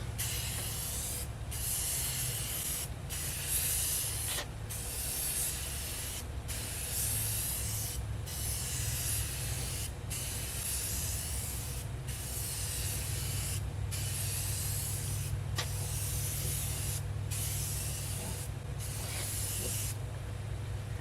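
Paint hisses from a spray head nozzle in a long series of bursts, each cut by short pauses, steady and close over a low motor hum, painting a 2021 Chevy 2500 truck.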